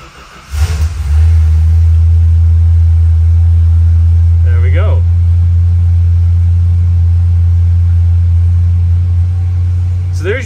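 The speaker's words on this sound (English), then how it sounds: "There's your famous Chrysler gear reduction starter on this Mopar 440." A Chrysler 440 V8 Mopar big-block fires up after a brief gear-reduction starter crank, then settles into a loud, steady, deep idle that holds close and unbroken, with faint voices cutting in once or twice.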